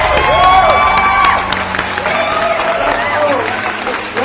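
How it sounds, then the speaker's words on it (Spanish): An audience at the Premios Corona 2022 awards show bursts into loud, sustained applause with cheers and whoops, while a host's voice carries over the crowd. "Otro aplauso ahí"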